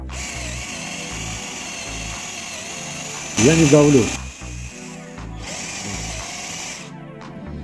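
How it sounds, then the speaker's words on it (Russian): A DEXTER cordless drill-driver in drilling mode whirs steadily with a brief louder, pitch-shifting burst in the middle, while someone speaks briefly in Russian over the motor. "Переключиться можно в режим сверления."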